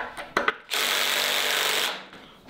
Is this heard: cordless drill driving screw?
yes